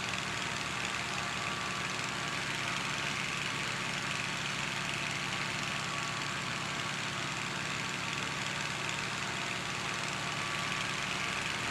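Engine of a vehicle idling in a video game, a low, steady continuous hum at moderate level with no change in pitch and no talk over it.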